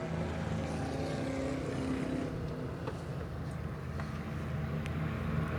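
Vintage race cars, including a 1968 Chevelle, roaring around a track after the green flag, a steady, dense engine drone with passing swells and no talk over it.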